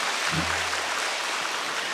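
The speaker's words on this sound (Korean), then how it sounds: "우리 박수로 격려" Church congregation applauding during a Korean sermon, a soft, even wash of many hands clapping that fills the room, with a brief low thump near the start.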